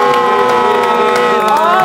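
A television studio audience on a morning show cheers loudly to welcome a guest, with shouting voices and whoops dominating the short burst while faint clapping sits underneath.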